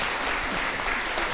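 Audience applause for Elli at a live show in Aschaffenburg, a dense steady burst of clapping from a crowd, close and loud throughout with no talking.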